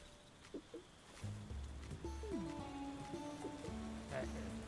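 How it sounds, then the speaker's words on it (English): Rain falls through a night scene in the tavern-management video game Tavern Keeper, a soft continuous patter beneath game music tones and occasional brief sounds. "Seems we're in for a rainy night."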